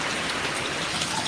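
Steady, dense rain hisses continuously during a storm, a uniform wash of drops with no pauses and no voices.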